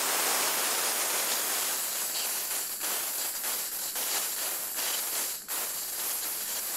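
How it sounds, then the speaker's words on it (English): Pressurized gas vents from a laboratory bomb calorimeter containing water, producing a loud, continuous broadband hiss with slight spitting fluctuations and a brief dip near the end. "There will be hissing and spitting at this point because there's water."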